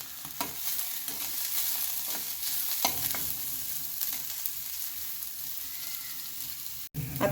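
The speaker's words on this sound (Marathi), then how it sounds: "1 मिनिट आपण याला छान परतून घेऊया." Garlic and ginger sautéing in a pan for ragi soup, a steady close sizzle with occasional scraping stirs, continuous and alone.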